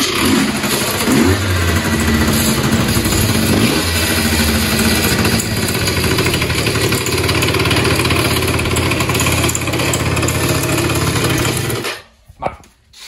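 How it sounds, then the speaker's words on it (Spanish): A Yamaha Jog RR scooter's small engine runs loudly and steadily with a rough, uneven chug, then cuts out abruptly near the end, leaving brief quiet. "hace un ruido un poco raro, ¿no? Vamos a arrancarla"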